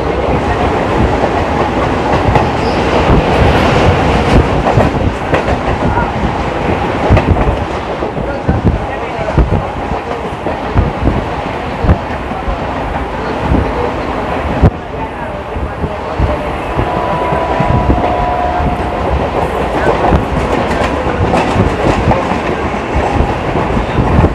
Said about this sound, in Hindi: ये देखो ट्रेन की रेस लग रही है।